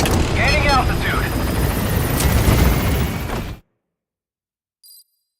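The Pequod helicopter in Metal Gear Solid V climbs away from the landing zone with a loud, steady rotor roar and a radio voice over it, then cuts to silence with a brief faint beep near the end.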